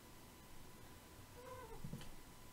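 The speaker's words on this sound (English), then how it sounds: "Oh, that was my cat." A house cat gives a single faint, short meow close to a desk, standing out briefly above a quiet background hiss.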